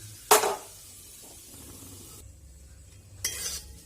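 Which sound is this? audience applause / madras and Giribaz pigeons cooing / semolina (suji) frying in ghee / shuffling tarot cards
semolina (suji) frying in ghee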